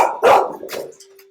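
A single loud, close dog bark followed by a shorter trailing yelp and a fading tone, heard alone with no speech.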